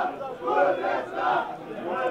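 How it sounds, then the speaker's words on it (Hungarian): Football stadium crowd chanting in unison, counting along as a player lies on the ground, a rhythmic roar of many voices rising and falling in waves at a distance. "A közönség rászámol."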